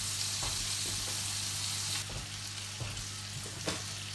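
Fish sizzles in a pan over low heat, a steady, faint frying hiss with a few soft clicks of movement and no talking.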